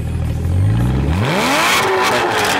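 A Porsche or Camaro engine is revved hard through its exhaust, a loud close roar climbing steeply in pitch and then holding high, with no voices over it.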